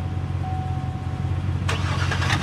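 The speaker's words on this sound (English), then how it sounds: "then you hear the truck start up" A truck engine in Farming Simulator 22 starts up partway through, a burst of cranking and catching over a steady low engine rumble that runs the whole time, fairly close and loud.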